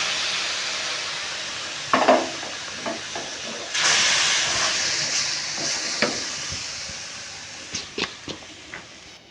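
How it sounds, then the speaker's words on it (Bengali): Milk poured into hot fried semolina in a pan hisses and sizzles loudly, with a surge of steamy bubbling and occasional scraping stirs. "এবার আমি এর সে এর মধ্যে জলের বদলে দুধ দিয়ে দিচ্ছি"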